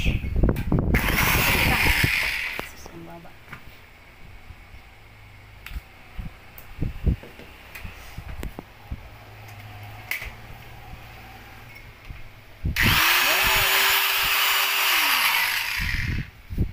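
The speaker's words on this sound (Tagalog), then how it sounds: "Yung grinder naman" A new electric angle grinder whines at high speed in two loud bursts, one at the start and one near the end. Quieter handling noise and a few clicks fill the gap between them.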